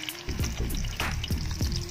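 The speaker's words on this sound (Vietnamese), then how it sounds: "sẽ bỏ chuối vô chiên nha. Dầu nóng rồi" Green banana pieces dropping into hot frying oil, with steady close sizzling and bubbling plus a few louder splashy bursts as pieces hit the oil, no talking.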